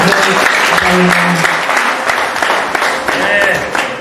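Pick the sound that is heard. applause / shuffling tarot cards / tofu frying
applause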